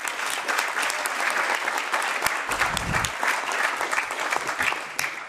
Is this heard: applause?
yes